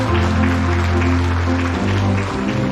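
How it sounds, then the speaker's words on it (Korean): Applause from guests welcoming visitors at an exhibition opening for Professor Kim Sun-doo at the Jeonnam Museum of Art, steady clapping blended with a sustained low tone and room noise, fairly loud throughout. "박수로 환영해 주십시오."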